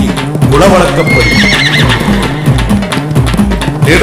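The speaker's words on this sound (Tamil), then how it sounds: "மாலை வேளையிலே குதிரையில் புறப்பட்டார் வேட்டைக்கு குலவழக்கப்படி." A horse neighs and whinnies with clip-clopping hooves as a rider sets out in the evening to hunt, the sounds continuous and close under a layer of speech and music.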